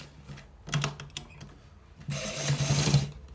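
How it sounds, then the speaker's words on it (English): A sewing machine stitches a designer shirt collar in short bursts of rapid mechanical whirring and clatter, then a longer steady run near the end, close and fairly quiet, with no talk. "So we are gonna stitch it right now. So we are stitching it."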